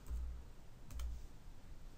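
Two short bursts of quiet key clicks come from someone typing on a computer keyboard while working in process simulation software, with no talking.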